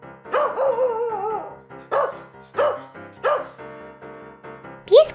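A cartoon dog in a Playmobil children's story barks loudly and repeatedly at a man in a series of sharp, close bursts with short pauses, and a final high yelp.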